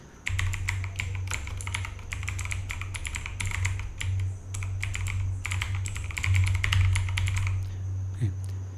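Computer keyboard typing in quick bursts of clicky keystrokes, close and clear, with short pauses between runs over a low steady hum.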